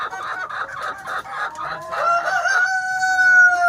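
Layer hens cluck steadily at a nesting box, close by, and a rooster's crow rises toward the end.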